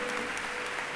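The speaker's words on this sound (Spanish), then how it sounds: "Fuerte ese aplauso" Brief burst of congregational applause during a church sermon, a steady wash of clapping heard for about a second at moderate volume.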